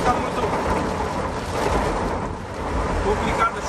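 Heavy rain drumming on a moving car during a driving lesson, a dense continuous roar with road noise underneath and faint speech in the background.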